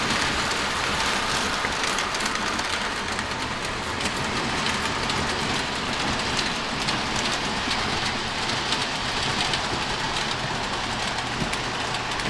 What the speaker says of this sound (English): And now we're gonna run up the train in the mountain.